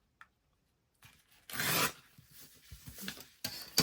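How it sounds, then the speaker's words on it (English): Magazine paper tears along a ruler in a close, quiet room, a rough ripping burst followed by shorter scraping tears and rustles. "put the shorter piece under the ruler and tear the bigger piece"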